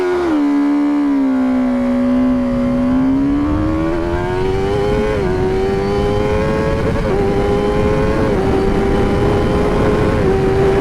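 A motorcycle engine drones loudly and steadily, its pitch dipping then climbing in stages as it revs up through gears, close and continuous.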